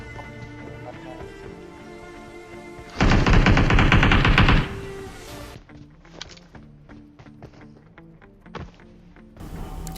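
Automatic gunfire in PUBG Mobile, a loud sustained burst of rapid shots lasting over a second, then scattered single shots and game sounds over a background of in-game music.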